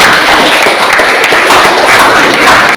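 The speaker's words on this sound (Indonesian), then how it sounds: "tepuk tangan untuk Wati" Students in a classroom applaud a classmate, loud close clapping from a group that continues steadily and then stops abruptly at the end.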